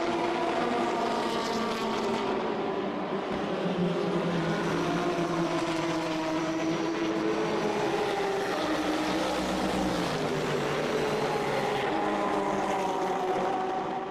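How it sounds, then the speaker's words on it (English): A Porsche 997 GT3 R and a Mercedes SLS race each other at the start of the Dunlop 24H Dubai 2014, their engines roaring loud and continuous with shifting pitch as they run close together. "The Porsche 997 GTR3 from Attempto Racing 1 is up against the Mercedes SLS with the number 19 from GDL Racing."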